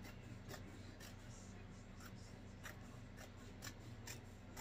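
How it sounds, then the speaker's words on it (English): Scissors snip through army print fabric on a puff sleeve jacket, a run of quiet, regularly spaced cuts heard close against a low steady hum. "We got to cut some of this off."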